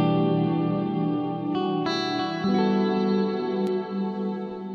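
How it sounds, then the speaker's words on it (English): Clean electric guitar chords ring through the EpicClouds ambient reverb plugin, sustained and shimmering with a long washing tail and slight chorus-like wavering as new chords enter, loud and alone. "Amazing tail of the reverb,"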